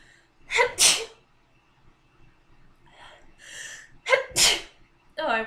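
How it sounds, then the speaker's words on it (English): Two sharp, loud sneezes burst out a few seconds apart, separated by quieter breathy sounds, followed by the start of a voice. "I warned you beforehand that I was probably going to sneeze and cough at some point."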